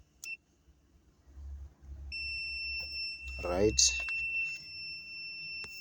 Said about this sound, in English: it makes a beeping sound, so it tells us this fuse is good